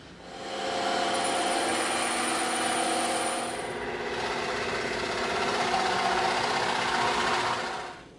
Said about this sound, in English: let's pop over to the bandsaw and the scroll saw and cut those out